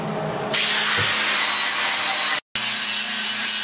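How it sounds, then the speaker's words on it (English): An angle grinder with a grinding disc bites into metal in a shop working on a 1946 Ford, a loud, harsh continuous whine and hiss close by, briefly cut off near the end and then resuming, no talk. "We got the goodie out of that grinding disc and working on another one."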